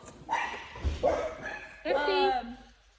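During cone-work training, a dog gives excited yips and barks with a whiny, rising and falling tone, several short close calls with brief pauses between them.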